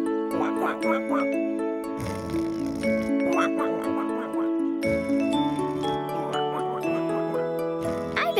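A cartoonish voice imitates a duck, repeating quick quacks in a rhythmic series over light tinkling music.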